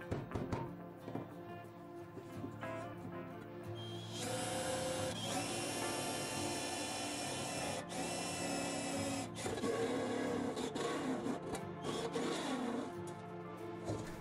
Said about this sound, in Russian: И сперва китайским ступенчатым сверлом делаю отверстие.